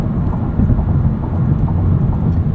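Steady low rumble of tire and road noise inside a 2025 Honda Accord Hybrid Touring while driving, a dense continuous roar with no talk.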